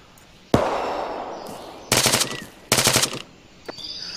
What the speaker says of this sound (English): Find out where that patrol's fire is coming from.